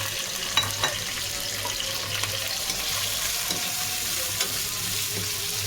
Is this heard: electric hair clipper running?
no